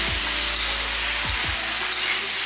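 Ingredients for a large batch of mutton curry sizzle steadily in a pan, a continuous frying hiss with a few soft stirring scrapes, no voices.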